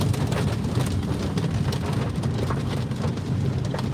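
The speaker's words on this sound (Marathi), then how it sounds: "बापरे मुसळधार पाऊस आहे जबरदस्त पाऊस चाललेला आहे" Torrential rain in a rural village during a long monsoon downpour, a dense, unbroken hissing roar with deep rumble beneath, loud and close throughout with no voices.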